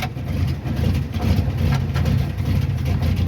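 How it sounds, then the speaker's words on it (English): The engine of the vehicle Stone Soup idles with a carburetor running rough and a little rich: a steady, loud, low rumble with uneven pulsing throughout and no speech. "My God, this carburetor's screwing up."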